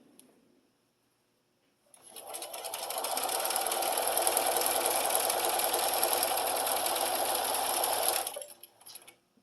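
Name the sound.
sewing machine quilting a runner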